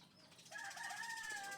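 A chicken calls in a fly pen holding chicks: one faint, drawn-out cry in the second half of the clip, heard alone with no talk.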